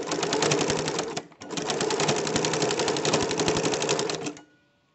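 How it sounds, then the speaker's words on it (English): A sewing machine fitted with a ruffler foot runs ruffle stitches, a fast, even mechanical clatter of rapid needle strokes, close and steady, pausing briefly once before running on and then stopping. "Easy ruffle stitching with a ruffler foot."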